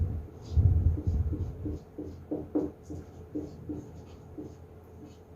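A pen writing on paper during a language-teaching lecture, giving a series of short scratching strokes at a steady rhythm, close and moderately quiet, with low room hum beneath.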